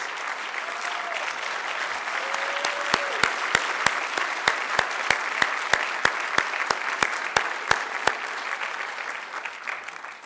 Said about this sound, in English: so we can give him a good round of applause for what he did